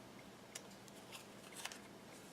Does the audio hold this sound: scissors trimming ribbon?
yes